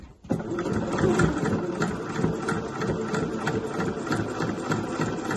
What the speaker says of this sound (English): I'm just going to stitch to the bottom corner there.